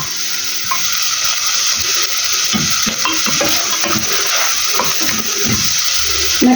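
Onion and carrot sauté in a pan for a vegetable cream soup, giving a loud, steady sizzle of frying with stirring scrapes and clatters throughout, no voices.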